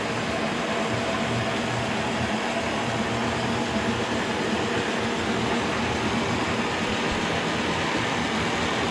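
A rigid Kearney & Trecker milling machine runs and cuts metal, producing a steady, dense mechanical whir and hum with faint tonal whine, continuous and close for the whole stretch.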